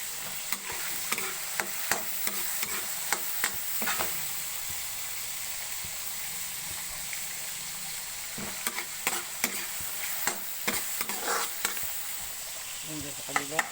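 Garlic fried rice being stir-fried in a pan for breakfast, with a steady sizzle and hiss under repeated scraping, clattering strokes of a utensil against the pan, in bursts at the start and again toward the end.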